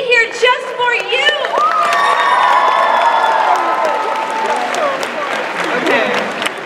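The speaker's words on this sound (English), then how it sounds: "Let's give another round of applause for all the Japanese guests." A convention audience at an opening ceremony applauds and cheers, with whoops and shouts rising into a loud, sustained wave of clapping and crowd noise that slowly fades.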